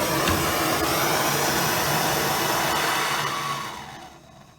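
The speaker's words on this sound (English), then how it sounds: "So let's just fire up that motor." A motor runs steadily while heat shrink is applied to a terminal on a low-current wiring loom, giving a loud, close, even roar that winds down and fades over the final second.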